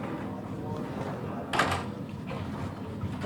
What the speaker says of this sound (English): can you close the door please?